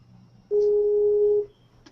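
A single steady electronic telephone tone holds for about a second, clean and prominent over a quiet room, with a faint click at the end while a call waits to be picked up.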